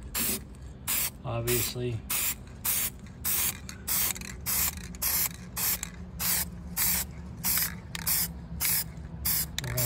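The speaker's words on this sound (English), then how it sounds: "I believe I'm not the only one that's done spray paint on a car." An aerosol spray can hisses in a quick series of short, even bursts while paint goes onto a 1957 Chevy, close and fairly loud, with someone talking briefly near the start.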